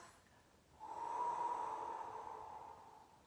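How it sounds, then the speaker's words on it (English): One slow, soft exhale rushes out through the mouth, swelling then gradually fading, close and quiet. "And then breathing out through your mouth."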